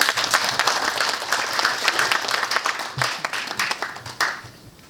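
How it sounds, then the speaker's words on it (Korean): Audience applauding to welcome a Seoul National University emeritus professor to a leadership academy lecture, a dense, steady wash of many hands clapping that stays loud and thins slightly toward the end. "뜨거운 박수로 모시겠습니다"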